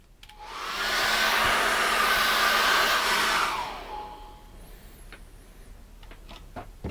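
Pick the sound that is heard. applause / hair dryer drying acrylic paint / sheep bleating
hair dryer drying acrylic paint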